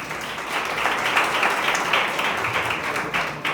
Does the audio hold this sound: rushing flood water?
no